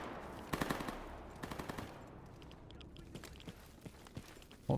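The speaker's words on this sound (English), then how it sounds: "Wonder what's shooting." Bursts of automatic gunfire in the STALKER: Gamma video game, several short rattling volleys in the first two seconds, then scattered quieter distant shots, fairly faint overall.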